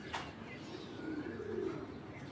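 Faint, low cooing from pigeons swells gently through the middle, following a brief sharp click at the start, over a quiet background hiss.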